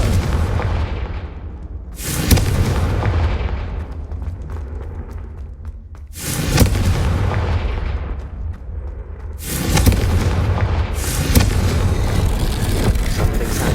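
Blasting-curse explosions from Hogwarts Legacy, three or four heavy booming blasts a few seconds apart, each a sharp loud burst that decays into a rumbling tail.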